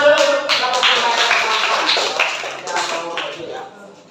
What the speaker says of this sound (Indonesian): Tepuk tangan dulu kelompok Mbak Ella.